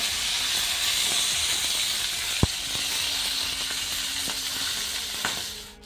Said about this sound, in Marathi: ही वांगी मी आता तेलात सोडून देते